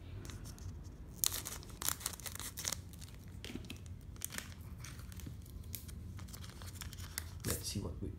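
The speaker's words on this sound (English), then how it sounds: "Is it so hard to open these packs? Come on, I'm just gonna use my scissors here." Scissors cut open a Pokémon Lost Thunder card pack with quiet snips and crinkling foil, with a voice talking softly underneath.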